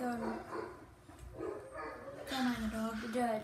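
A dog barks indoors in a few short, sharp yips and woofs that overlap with people talking nearby.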